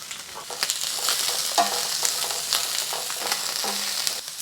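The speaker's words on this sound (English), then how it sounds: "we'll add ginger now, along with the onions." Ginger and onions stir-frying in a pan, a continuous close sizzle with rhythmic spatula scrapes and light clinks throughout.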